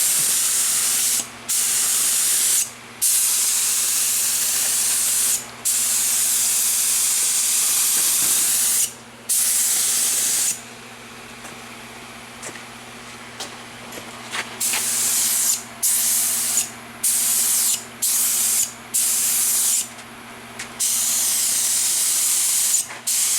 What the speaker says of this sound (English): I'm going to start spraying here a little bit.